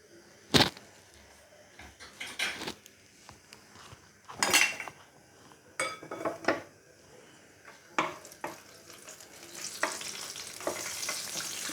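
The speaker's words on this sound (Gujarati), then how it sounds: "હવે આપણે ઉપરથી થોડુંક વઘાર રેડી દઈએ." Hot tempering is poured over Gujarati handvo batter in a cooker, giving sharp sizzling bursts mixed with clinks of utensils against metal pots, fairly close and without speech.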